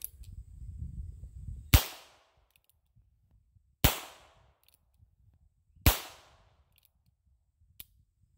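A Heritage Rough Rider .22 LR single-action revolver fires three sharp, loud outdoor shots spaced about two seconds apart, each ringing off briefly, followed by a faint click near the end.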